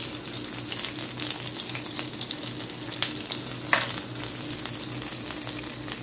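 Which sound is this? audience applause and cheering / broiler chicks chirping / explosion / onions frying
onions frying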